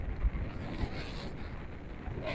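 Steady wind rushing and buffeting against the microphone at a beach in Seminyak, Bali, a continuous broadband roar with no talk.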